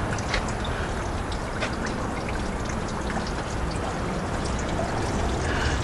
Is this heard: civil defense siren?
no